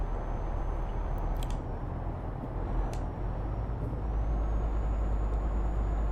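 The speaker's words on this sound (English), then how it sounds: "this going uphill, you can feel the truck is like struggling a little bit" A heavy truck straining up a hill in Euro Truck Simulator 2, a steady low engine rumble with broadband road noise, plus a few short hissing bursts over the drone.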